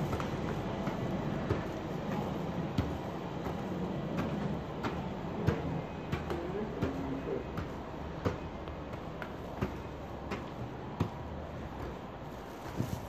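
A train hums and rumbles at a snowy station platform, a continuous low drone with scattered knocks and clacks, steady and moderately distant throughout.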